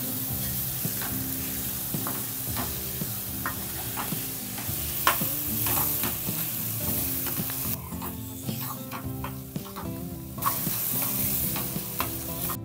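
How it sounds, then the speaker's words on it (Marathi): Small kardi fish being stirred into sizzling masala in a pan, with continuous frying crackle and scraping stir strokes, a brief quieter patch midway, and no talking. "तर या मसाल्यामध्ये त्याला आहे ना मिक्स करून घ्यायचं."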